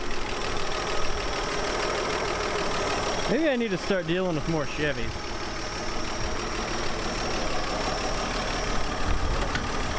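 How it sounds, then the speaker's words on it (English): A 1954 Chevrolet Bel Air, long abandoned, idles steadily as a continuous engine drone that runs the full length, with someone speaking over it partway through. "It's sitting there idling right now."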